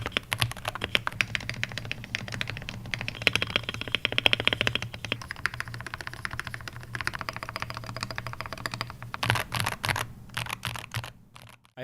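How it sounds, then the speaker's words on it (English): Close, continuous typing on a Wooting 80HE mechanical keyboard with foam dampening, a rapid stream of muted clacks and key presses with a low steady hum beneath. "Another pro of this keyboard is its sound."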